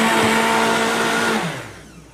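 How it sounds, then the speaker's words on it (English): A blender whirs at high speed, close and loud, as it purees vegetables and apples, then winds down near the end. "Now, this is really pretty easy if you've just got vegetables and a couple of apples. Throw it in here and blend it."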